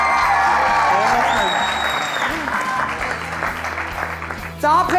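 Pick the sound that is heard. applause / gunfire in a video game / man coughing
applause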